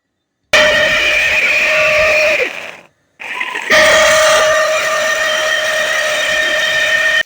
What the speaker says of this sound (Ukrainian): Беру 120 грам вівсянки, зараз її зіб'ю на блендер